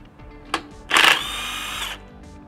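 A power tool loosens a car wheel nut with one short click and then a single loud whirring burst of about a second, close and without talk.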